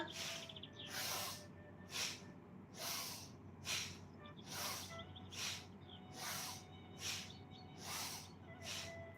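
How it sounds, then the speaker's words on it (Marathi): Bhastrika pranayama breathing at a yoga workshop: about ten forceful, evenly paced breath bursts, roughly one per second, each a sharp hissing rush through the nose, faint and close with no talk. "हे भस्रिका प्राणायाम झालं"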